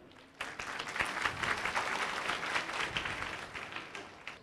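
An audience claps steadily for several seconds at a public government forum in Hardoi, India, a dense patter of applause that starts abruptly and stays fairly even throughout.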